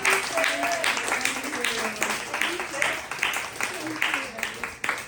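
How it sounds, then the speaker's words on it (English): A crowd claps and applauds continuously while voices talk over it, the clapping dense and steady throughout. "This is an applause for all of you guys."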